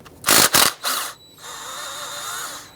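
A 13mm idler pulley bolt being loosened with a hand tool on a Jeep Grand Cherokee engine: a few sharp clicking ratchet bursts up close, followed by a steadier, softer mechanical whir as the bolt spins out.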